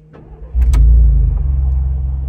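A truck engine cranks and catches about halfway in, then settles into a loud, steady low rumble of idling.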